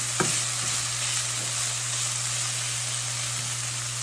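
Tofu kung pao stir fry sizzles steadily in a hot pan, a dense broadband hiss with a low hum beneath and a few faint scrapes of stirring, no voices.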